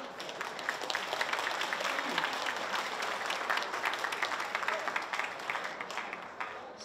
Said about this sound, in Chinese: 让我们给他们大量的掌声